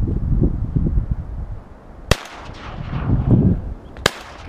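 Two sharp shotgun blasts during a duck hunt on the Cape Fear River, loud and sudden with a ringing decay across open water, spaced about two seconds apart over low outdoor rumble and faint voices.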